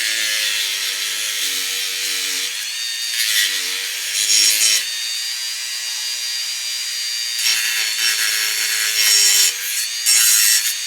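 Close hand sawing through a small wing piece being cut off for a broken door repair on a 150-year-old Rob Roy 112 wood stove, steady rasping strokes in bursts with short pauses, no talk.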